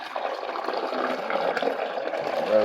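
Water pours steadily into the reservoir of a Hamilton Beach FlexBrew coffee maker that has a leak, a continuous close splashing fill lasting a few seconds.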